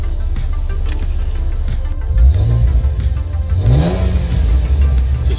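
A Holden VE V6 engine (LLT) with a lean fuel trim and knock revs up twice, each rise climbing and falling over a steady idle, loud and close with no talking.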